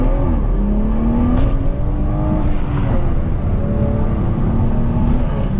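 A BMW 340 M package with a downpipe, its engine and exhaust droning and revving loudly in the wet, the pitch sweeping up and down as it accelerates, heard up close and alone without speech.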